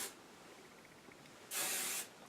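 Short hiss of hairspray from an aerosol can misted onto curled hair, one steady burst of about half a second, close and fairly loud after a quiet pause.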